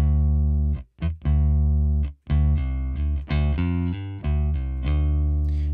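A Native Instruments Scarbee Rickenbacker electric bass sample library plays a loud, thick run of sustained notes with short gaps, colored by tape, distortion and warmth effects, with no voices.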